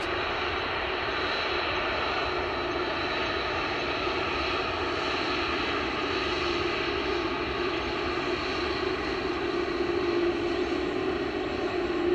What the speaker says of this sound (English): at Manchester Airport, you can get pretty damn close to these aircraft